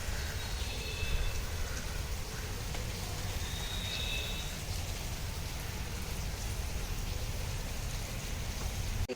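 Heavy monsoon-season rain falling steadily, a dense continuous wash of hiss and patter that stays even and fairly loud throughout with no voices.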